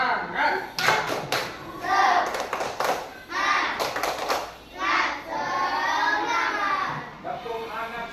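Third-grade children in an Islamic religious education class perform a rhythmic clapping chant, bursts of quick hand claps alternating with their chanted voices, lively and close.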